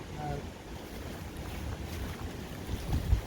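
Wind gusts buffet the microphone outdoors at a fishing spot in dry, blustery weather, a steady low rumble and hiss with faint distant voices.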